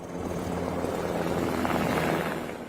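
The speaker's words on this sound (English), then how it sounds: "helicopters have been dropping water on this spot as well" Firefighting helicopters drop water on a wildfire in Los Angeles, their rotor and engine drone a steady, continuous roar at middle distance with no voices.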